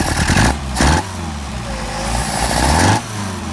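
The engine of a Mercedes 190SL, running on rebuilt carburetors, revs up and falls back in short bursts close by. It hesitates between throttle openings, and no voices are heard.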